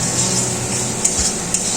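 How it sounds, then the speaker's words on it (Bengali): Spiced katla fish masala stirred in a pan: a continuous bright sizzle with soft scraping and a couple of light knocks from the spatula, close up and with no talking. "এবার নেড়ে চেড়ে নিচ্ছি।"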